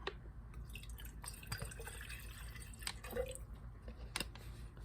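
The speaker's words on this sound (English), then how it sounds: "I'll put water in the cup so that I can test it." Water trickles and drips into the cup of a Fuji Spray #7001 "M" spray gun for testing, quiet irregular drips and splashes close by with no talking.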